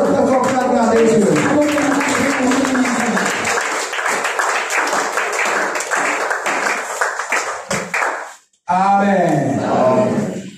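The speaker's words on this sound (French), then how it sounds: "Applaudissons encore pour la gloire de Dieu" A church congregation at a French-language Pentecost Sunday service applauds loudly and steadily for several seconds, with shouting voices over the clapping, before it cuts off briefly and a voice speaks.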